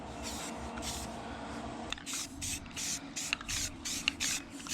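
Aerosol spray paint hisses onto old wheels in a series of short, close bursts, with a steady hiss running through the first couple of seconds before repeated sprays pulse on and off.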